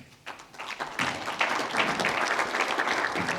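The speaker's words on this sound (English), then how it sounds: "Such a tepid applause." Lukewarm applause from a luncheon audience starts sparse and builds to steady, moderate clapping, fairly close but subdued, with a few scattered claps at the start.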